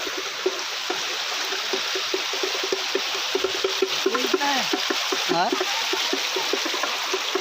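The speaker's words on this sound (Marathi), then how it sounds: "पाण्याचा आवाज येत असेल पूर्ण मोबाईलमध्ये" Water at a waterfall in a Konkan village near Mandangad flows and splashes steadily in a continuous broadband rush, with a voice talking over it intermittently.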